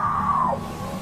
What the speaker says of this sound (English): She lets out yet another scream, this one more intense than the first.